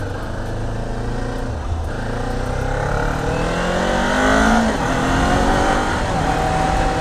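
A Kawasaki Ninja 400 motorcycle accelerates with a continuous engine drone and rising revs, heard from the rider's position amid steady wind rush.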